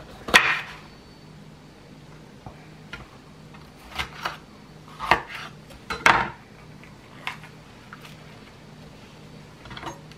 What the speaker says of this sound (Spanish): También lo vamos a cortar así en rajitas.